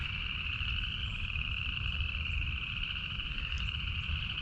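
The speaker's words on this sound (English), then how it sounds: "Tree frogs." Tree frogs call out in the woods, a dense continuous chorus of high trilling croaks that stays steady and fairly faint, set over low background rumble.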